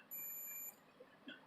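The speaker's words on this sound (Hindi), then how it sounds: "देखिए बजर बज रहा है।" A clamp meter set to continuity testing gives one short, high buzzer beep while checking the terminals of a defrost timer. The beep is faint against a quiet background.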